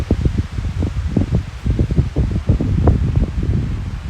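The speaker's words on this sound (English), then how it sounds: "It's windy." Steady gusty wind buffets the microphone in low rumbling bursts, continuous and close throughout.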